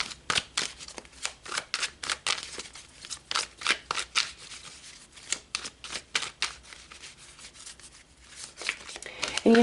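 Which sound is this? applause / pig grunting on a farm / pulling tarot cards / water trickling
pulling tarot cards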